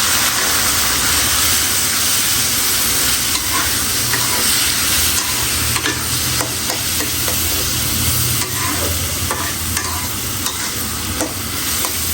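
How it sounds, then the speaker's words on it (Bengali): Boiled greens, cooked with onion, garlic, green chilli and salt, being tempered in a hot pan, with a loud, continuous sizzle and frying hiss throughout and occasional stirring clatter, up close, with no talking. "এখন হলো আমি শাকটা বাগাত দেবো"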